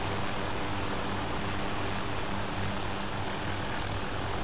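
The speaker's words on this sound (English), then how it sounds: "As you can see, I'm just sat on the side of this chopper, a little epic." Continuous dense rotor and engine roar of a military helicopter in the game 40 Commando, heard from aboard the aircraft, loud, close and unbroken with a low throbbing pulse.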